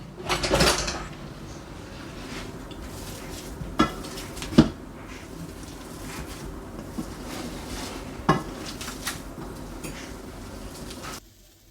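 Clattering kitchen utensils being rummaged through in search of a masher while cooking a wartime ration sausage and tomato pie, with sharp metallic clinks and knocks scattered over several seconds, close and fairly loud.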